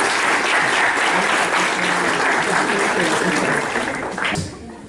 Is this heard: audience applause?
yes